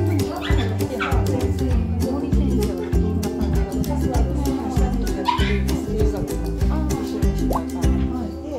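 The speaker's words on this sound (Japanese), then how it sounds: "ワンちゃんがいっぱいいる。" Several dogs bark and yip at a dog event in a cafe in Hirano, Osaka, with short, repeated sharp barks and whimpers over a steady background hum.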